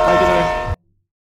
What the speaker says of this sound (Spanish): Acá le tenés que tocar el claxon. La bocina del tren